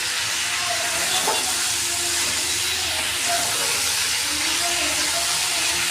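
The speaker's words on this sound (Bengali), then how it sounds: "আর দেখো আলুটা ভাজছি জাস্ট।" Potatoes fry in a pan for aloo posto with a constant close hiss and sizzle, steady and unbroken throughout, joined by a few faint clinks.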